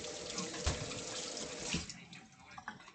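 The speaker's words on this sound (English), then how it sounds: "Just gonna rinse it again." Tap water runs steadily into a sink as something is rinsed during home cooking, a close, constant splashing hiss with a few louder knocks and sloshes partway through.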